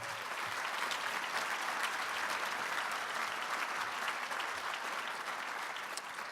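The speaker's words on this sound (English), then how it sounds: "if we could give her a round of applause" An audience at a mayors' breakfast event applauds the new Met Council Chair, a steady, even round of clapping from a room of people that continues at constant strength before easing slightly at the end.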